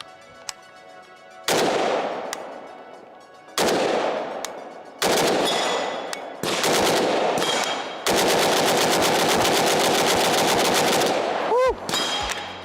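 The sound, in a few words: 5.56 AK rifle firing shots and bursts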